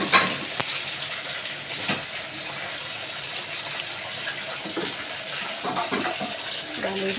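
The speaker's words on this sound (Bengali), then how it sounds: "আমি এবার ডালটা দিয়ে দিলাম" Lentils (dal) dropped into hot spiced tempering hiss and sizzle in a steady, bright crackle, with a few sharp clatters of a utensil against the pan.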